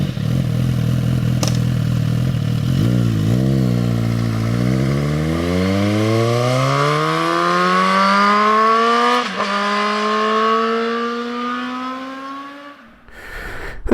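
A 2024 Suzuki GSX 8R motorcycle accelerates hard on the road, its engine note climbing steadily through the gears with a brief dip at a shift, loud and close, then cutting off abruptly at the end.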